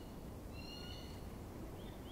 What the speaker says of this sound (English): from far up you can hear the thin, piercing cry of some great bird of prey